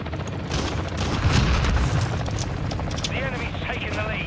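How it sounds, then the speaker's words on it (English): Precision airstrike explosions in a shooter video game land as heavy, rumbling booms that swell and roll for a couple of seconds. Faint crackling and a short electronic tone follow. "Friendly precision airstrike inbound."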